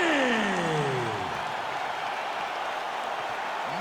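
A capacity arena crowd in the EA Sports UFC 5 video game roars and cheers after a TKO win, the dense crowd noise starting loud and settling into a sustained wash while an announcer speaks over it.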